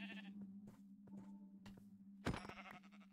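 Sheep bleating in the Minecraft video game, a few short bleats over a steady low game hum, with one louder burst near the end, no talking.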